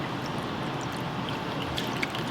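Water pours steadily into a bowl in a continuous splashing stream, close by, with no voices.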